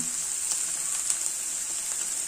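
Okra sizzles steadily in hot oil in a pan, a bright, continuous frying hiss with small crackles and pops, close and alone.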